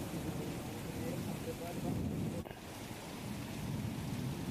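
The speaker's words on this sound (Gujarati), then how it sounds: "પારડીમાં પણ ધોધમાર વરસાદ છે" Heavy rain pours down in Pardi, Valsad, a dense, unbroken hiss of downpour that stays loud and steady throughout, with no voices.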